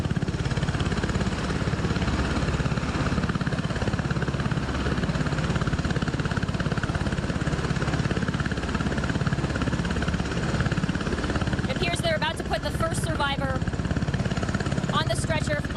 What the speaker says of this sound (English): this Coast Guard helicopter.